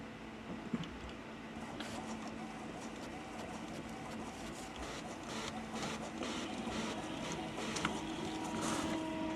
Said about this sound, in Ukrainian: А, принтер, боже.